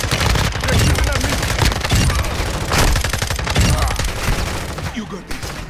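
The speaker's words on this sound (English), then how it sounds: "They're shooting at me." Dense automatic gunfire fills a Call of Duty: Modern Warfare 2 match, with rapid overlapping bursts of shots, loud and close throughout, and brief talk under the noise.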